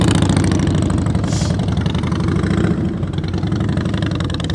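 A motorcycle engine runs steadily close by during slow-speed riding practice, a loud low throbbing drone that holds level throughout with slight variations in pitch.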